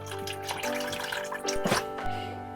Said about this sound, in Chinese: 鸡腿切好以后，放进盆中，再倒入清水